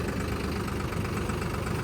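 Heavy diesel engine of a tractor rumbling steadily up close, a constant low chugging drone with no pauses.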